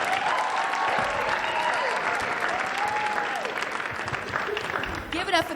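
A school crowd applauds performers at a Black History Month celebration, sustained clapping filling the room while a voice talks over it and a sliding tone sounds faintly underneath.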